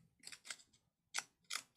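Scissors snip through paper close to the stitching of a handmade junk journal cover, several crisp, close cuts in two quick bursts separated by a short pause, with no talking.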